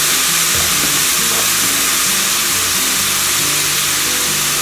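Olive oil and flour frying in a pan for a veggie pot pie roux, a steady close hiss of sizzling with faint scraping and stirring underneath, no voices.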